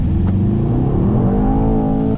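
A Mercedes-AMG GT 63 S 4-door revs hard on a race track, its engine note climbing steadily through a sustained, loud, close acceleration with no talk over it.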